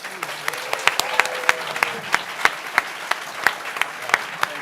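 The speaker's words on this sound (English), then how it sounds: "Everybody give a big round of applause to Ken." At a library field trip event, a small audience applauds Ken with a run of distinct, fairly close claps at an irregular pace over a soft murmur of voices.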